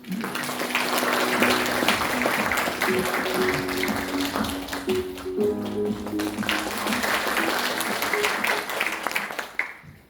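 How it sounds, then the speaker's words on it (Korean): Steady applause from an audience at an academic commemorative event in a museum, welcoming the museum director to the stage, sustained for several seconds under a background tone before tapering off at the end. "큰 박수로 맞이해 주시기 바랍니다."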